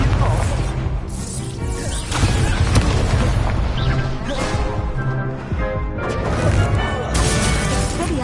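Incendio fire spell cast in a Hogwarts Legacy duel, a loud whooshing burst with heavy booming impacts and crashes layered over continuous game music.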